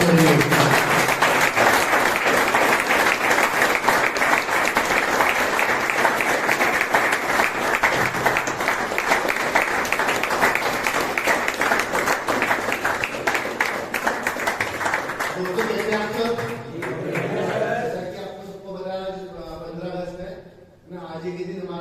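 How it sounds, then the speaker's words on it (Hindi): Loud, steady clapping from a gathered crowd at an Independence Day celebration in a rehabilitation centre, continuing for about fifteen seconds before dying away as a voice starts speaking over the last few seconds. "जोरदार तालियों के साथ स्वागत करेंगे।"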